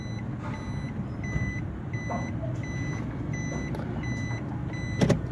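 A Suzuki Swift shifted into reverse sounds its reversing alert, a regular series of short, clear beeps repeating evenly over the low hum of the idling engine.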